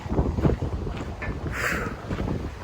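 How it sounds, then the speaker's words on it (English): Gusty wind buffets the microphone on a Pacific Crest Trail hiking path, a loud, uneven low rumble with a brief airy whoosh partway through, no voices. "It's windy, so my pack's not like optimized for weight."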